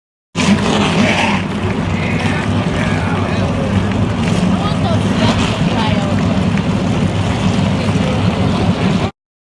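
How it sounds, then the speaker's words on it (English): Several NASCAR-style race car engines start and roar at once in a racing video game championship event, a loud, dense, continuous engine rumble with wind-like noise, while an announcer's voice runs over it. "Drivers, start your engines!"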